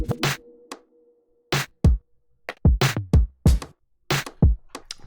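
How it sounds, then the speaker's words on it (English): Full mixed drum kit from a produced song, with sharp kick and snare hits, crisp cymbal transients and low toms trimmed of low end, playing a punchy, irregular pattern with short gaps, loud and close with no talking. "And together all the drums sound like this."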